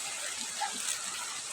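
Faint steady wash of water flowing along a riverbank, a soft continuous hiss with small splashy flickers and no clear foreground events.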